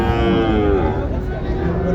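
Cattle at a cow market in Joypurhat, where Sahiwal calves are sold, low and dense mooing that carries on continuously and fairly loud through the whole stretch, with crowd noise underneath.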